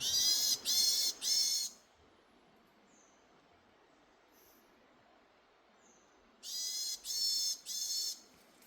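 A varied tit calls in the wild in May, two bursts of three rapid, high, raspy notes each, separated by a quiet gap with faint distant chirps, heard fairly close and alone.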